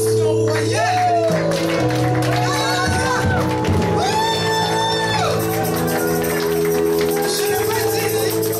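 A congregation at a Christian healing crusade gives a loud, sustained acclamation of shouts, whoops and raised voices. The roar stays dense and continuous for the whole stretch, with scattered clapping.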